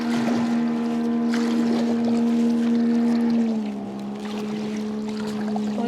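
A small, weak outboard motorboat engine drones steadily on a taiga river, a constant close hum that dips slightly in pitch near the end, with no talking.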